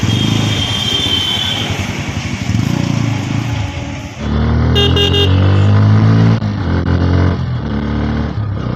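A Bajaj Pulsar N160 motorcycle with dual-channel ABS rides through traffic in fifth gear. Its steady, loud engine drone thickens into strong harmonics partway through, and a brief car horn toots nearby.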